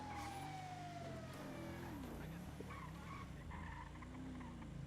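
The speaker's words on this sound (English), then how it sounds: "Oh, and the sirens." Emergency vehicle siren wailing with sliding tones that rise and fall, fairly faint and steady over a low rumble, with no speech.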